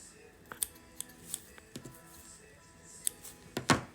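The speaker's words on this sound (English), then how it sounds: "Just cut a little bit more of that off" Scissors trim fly-tying fibers for a shrimp-style fly, giving several sharp, close snips spaced irregularly and ending in a louder cluster of cuts.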